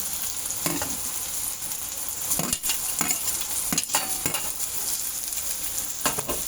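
Browned onion with ginger-garlic paste frying for pav bhaji, a continuous close sizzle punctuated by repeated scraping stirs of the spatula against the pan; nobody speaks.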